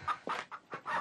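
A chicken sound effect gives four quick, close, loud clucks in a choppy rhythm, with no other sound around them.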